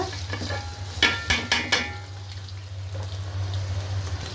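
Rice is stirred in hot oil with onion, cardamom and cinnamon, giving a gentle continuous sizzle. A short burst of three or four spoon knocks against the pot stands out near the start, and no voices are heard.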